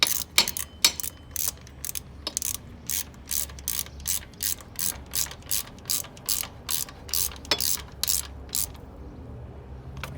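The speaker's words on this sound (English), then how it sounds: "Now we can tighten our lock bolt down." Ratchet tightening the timing belt tensioner lock bolt on a Ford Ranger 2.3/2.5 engine, giving a fast, regular series of sharp clicks in repeated bursts, close and alone with no talk.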